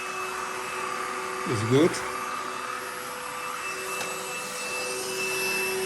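A Lidl stick vacuum cleaner runs with a steady, even whir close by, while a person speaks briefly partway through.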